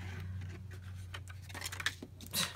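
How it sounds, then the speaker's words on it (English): Tim Holtz scissors cut through paper in a series of short crisp snips and rustles, growing louder toward the end over a low steady hum, without speech. "Then I am actually going to cut it with scissors."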